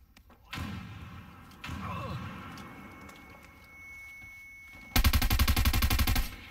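A frag grenade goes off in an Arma-style tactical shooter on a Homestead map: scattered thumps and clatter first, then a loud burst of rapid, pulsing booms in the last second and a half.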